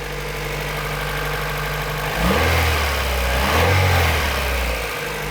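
A Honda CRX engine runs close by at a steady idle, with two brief blips of revving rising above the even drone.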